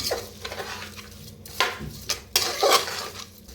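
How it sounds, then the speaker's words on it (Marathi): A spoon works salt through cooked rice in a pot, producing a few close scrapes and sharp clinks at irregular intervals over a low, quiet background. "मीठ आता मिक्स करून घेऊया"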